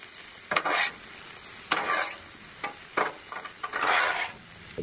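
Cabbage, potatoes, onions and bacon get tossed on a hot Blackstone griddle, with repeated scraping, stirring strokes over a steady sizzle, the bursts coming in uneven rhythm at close range.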